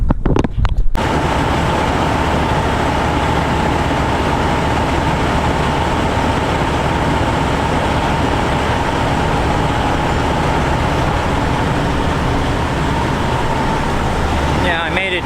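A heavy truck carrying a loaded drill rig backs out in 115°F heat, giving a loud, steady engine and road drone that fills the whole stretch.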